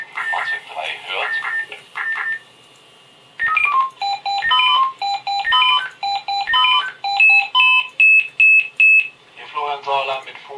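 A fire brigade radio alarm from the game Emergency 4, with rapid sequences of loud, pure electronic beeps in shifting pitches. It runs for several seconds between stretches of someone speaking over the radio at the start and end.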